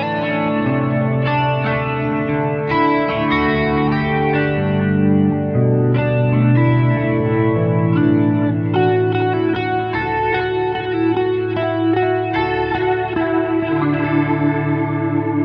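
Kemper rotary speaker simulation set almost entirely to horn, with heavy high-end roll-off, colouring steady sustained chords that swirl continuously at a constant loud level.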